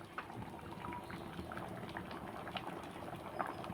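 Mango and moong dal curry bubbling in a pot, a steady close simmer of small popping bubbles and gentle liquid patter running evenly throughout with no voices.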